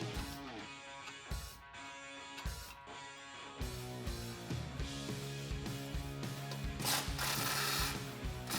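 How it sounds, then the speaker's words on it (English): A ratchet with a 10mm socket works loose a brake line bracket on the frame of a Jeep Wrangler JK, giving close, dense mechanical clicking in bursts and a steady run of ratcheting. "remove the brake line bracket that's connected to our frame using a 10mm socket"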